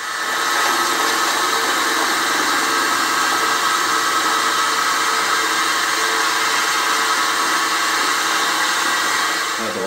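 An endmill mills a 4 mm deep cut, giving a loud, steady, continuous high-pitched machining whine that holds unbroken throughout with no talking.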